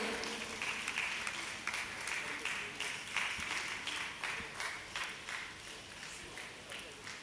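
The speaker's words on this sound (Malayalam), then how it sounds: "അദ്ദേഹത്തെ നല്ലൊരു കയ്യടിയോടുകൂടി നമുക്ക് ആദരി ആദരിക്കാം" A hall crowd claps for a panchayat representative at a public honouring ceremony, giving dense sustained applause that carries on steadily at moderate distance, with some talk faintly underneath.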